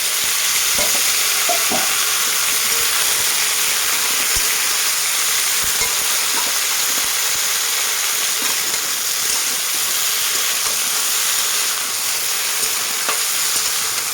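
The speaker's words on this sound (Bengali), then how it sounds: "এখানে সবজিগুলো দিয়ে আমি ভালো করে নাড়াচাড়া করে নিয়েছি" Mixed vegetables with fried onion and whole garam masala sizzle loudly and steadily in a pan for a long stretch, with intermittent scraping and clinking from a spatula stirring them.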